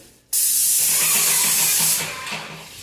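A Graco airless paint sprayer with a jet roller bursts on with a loud, steady hiss that holds, then eases slightly near the end, with a faint pulsing pump beneath.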